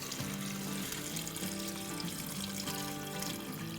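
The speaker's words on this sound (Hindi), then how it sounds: "अब हम इसमें पानी डालते हैं। मेरे हाथ में 4 कप पानी है, देखिए कितना जाता है।" About four cups of water pour into a pressure cooker in a continuous splashing, gurgling stream that stays steady and close throughout.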